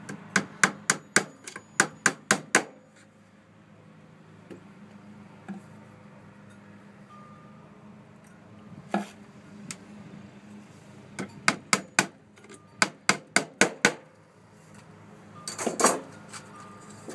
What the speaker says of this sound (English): That little hammer's got a magnet on it, so that's why I'm using that.